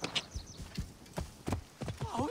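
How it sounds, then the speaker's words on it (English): Horse hooves clip-clop on the ground in the video game Assassin's Creed Origins, a quick run of hollow knocks under faint game sound, ending with a short snort or whinny. "What's this horse that I see here?"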